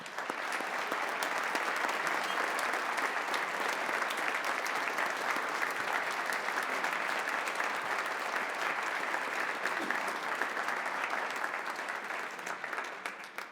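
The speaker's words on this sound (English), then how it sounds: "Would all of today's participants please rise as we give you a big round of applause" At a veterans concert, an audience gives the rising performers and band a big round of applause, a thick, sustained wash of clapping from many hands that continues steadily throughout.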